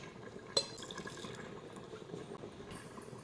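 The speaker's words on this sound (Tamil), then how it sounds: "அடுப்பை பற்ற வச்சுக்கிறோம் வந்து எண்ணெய் ஊற்றிட்டோம்" Oil is poured into a small tempering ladle set on a lit stove: a quiet liquid trickle with a light metallic clink near the start, faint and close.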